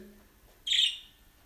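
One short, bright bird chirp rings out close by after a quiet moment.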